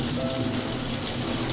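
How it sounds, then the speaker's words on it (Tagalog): Heavy rain in the video game Until Then, a dense, constant hiss of downpour with a faint low rumble beneath, steady and loud with no voices. "Lakas sa ulan, di wala na akong marinig."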